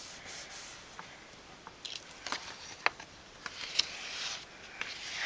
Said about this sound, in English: It's funny when you spray it, it instantly looks gray.